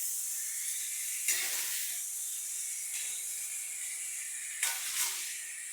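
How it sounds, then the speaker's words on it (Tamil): Ridge gourd peel sizzles in a pan, a steady hiss of frying with two or three brief louder bursts as it is stirred, heard alone and close. "கொஞ்சம் நல்லா வதங்கட்டும்."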